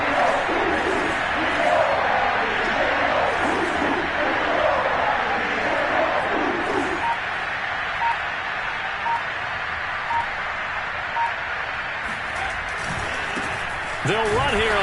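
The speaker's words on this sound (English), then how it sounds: "That just means this crowd's going to get even louder" A loud stadium crowd roars steadily through an NFL football game between the Chargers and the Browns as a dense, continuous wash of noise, with a commentator talking over it.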